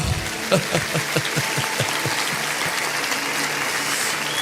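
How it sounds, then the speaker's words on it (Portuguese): A church congregation applauding during a worship service, with a dense, steady wash of many hands clapping, a few sharper claps standing out near the start, and no talk. "Dê um aplauso ao Senhor"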